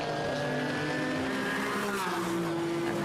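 A third-generation Porsche Cayman GT4 race car circuit racing at Estoril, engine note rising and falling in a continuous loud roar with shifting pitch and faint tire squeal, no voices.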